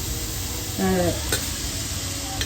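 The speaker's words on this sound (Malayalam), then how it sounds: "അത് ഇതിലേക്ക് ഇട്ടിട്ട് നന്നായിട്ട് വഴറ്റി" Grated bottle gourd sautéed in a pan for halwa gives a soft, close sizzle with stirring scrapes and a brief clatter partway through, fairly quiet throughout.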